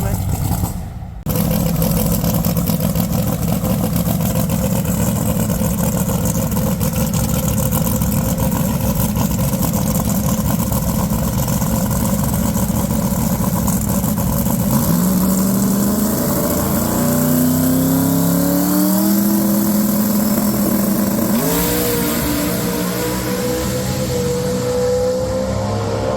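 A drag racing car makes a run down the strip at the Tri-Five Nationals, its loud engine roaring steadily and rising in pitch through the gears, with the crowd and track noise behind it.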